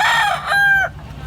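A rooster crows once, loud and close, a rising-then-falling call that breaks off sharply and leaves quiet background.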